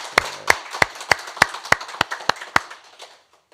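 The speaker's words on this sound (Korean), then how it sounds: "우리 그분들 위해서 박수를 쳐야 될까요?" A church congregation at a New Year's Eve watchnight service claps in unison, about ten sharp, evenly spaced claps at roughly three per second, which then trail off into quiet.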